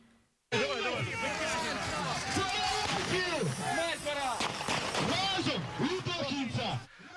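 Gunfire and crashing blows in a violent clash over a construction site in Kyiv, with smoke and fighting; loud, dense impacts and bangs ring out continuously beneath shouting crowd noise close by.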